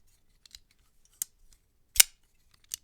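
A Civivi folding knife flips open and locks: a few sharp metallic clicks and snaps, spaced unevenly, with one louder snap near the middle, close and crisp against near silence.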